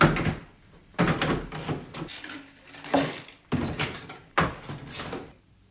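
Items being put back into a drawer during cleaning of an EHEIM 2080 aquarium filter: a series of five or six close, sharp knocks and clatters, separated by brief quiet gaps.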